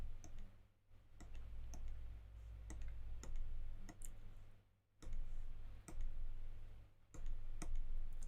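Computer keyboard cursor keys pressed one at a time in a steady sequence of sharp, close clicks, spaced about a second apart over a constant low electrical hum.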